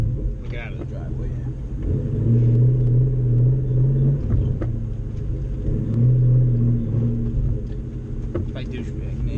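A loud car engine fitted with underdrive pulleys pulls out of a driveway, a deep rumbling drone that swells twice with revving, near and continuous.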